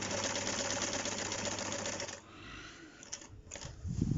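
A sewing machine stitches around a circular fabric lining, running steadily and close for about two seconds, then stopping while the fabric is turned, with brief handling clatter and a restart near the end.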